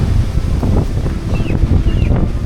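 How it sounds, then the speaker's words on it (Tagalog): Strong storm wind buffets the microphone in a constant heavy rush with gusting low rumble during bike camping in Tanay, with no voices. "Ang lakas ng hangin."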